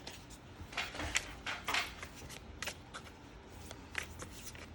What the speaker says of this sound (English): So let's go ahead and shuffle some cards.